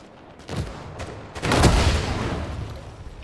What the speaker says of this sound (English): there's like multiple people inside the wall shooting us